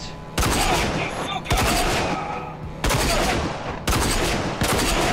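Gunfire in the shooter game RAGE: four loud, sharp bursts spaced about a second apart, each decaying into a short rumbling tail, with no talking.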